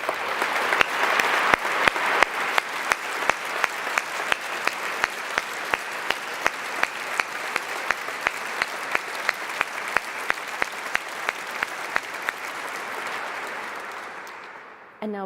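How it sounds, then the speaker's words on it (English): Sustained audience applause, a dense wash of clapping from a large crowd that holds steady for many seconds before tapering off at the end. "could we give them one more round of applause?"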